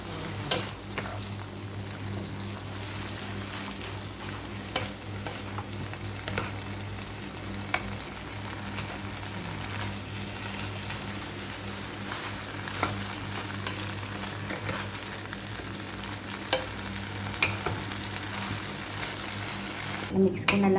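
Water spinach and sliced pork stir-frying in a pan, a continuous loud sizzle with scattered clacks and scrapes of stirring throughout, a voice talking intermittently over the cooking.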